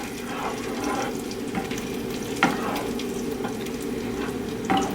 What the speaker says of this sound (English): And you want to stir it really well.